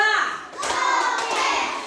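In a classroom teaching simulation, children clap in short bursts during a counting clap game, close and bright, with a few quick claps blending into the noise of the room.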